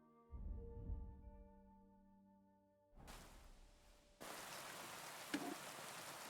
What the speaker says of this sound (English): It's raining and I get to forge something?